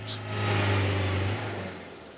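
In The Grand Tour video game's Mongolia special, an off-road car engine labours up a hill, a loud low drone that swells and revs briefly, then eases off.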